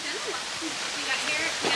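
Waterfall near Hilo on Hawaii's Big Island, a steady broadband rushing roar of falling water filling the whole clip at close range, with no speech.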